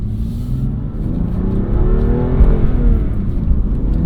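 A 2020 BMW M2 CS on the road, its engine note droning low and loud in the cabin, rising steadily as the car accelerates.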